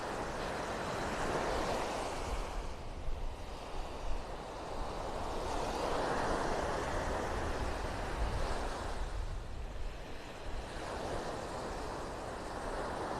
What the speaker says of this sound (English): You can see the waves breaking on the sandbar out there.